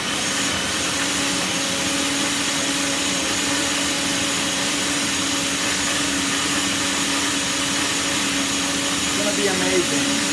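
A kitchen blender whirs steadily, mixing gazpacho, a cold tomato and vegetable soup, with a constant loud motor drone and a steady hum throughout.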